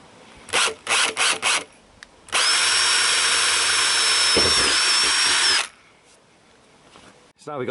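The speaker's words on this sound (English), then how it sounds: "So I start off with a small drill bit in there just to get a pilot hole there." A power drill with a small bit drills a pilot hole in a Citroen Relay, buzzing in a few short bursts, then running steadily for about three seconds before stopping; close and loud.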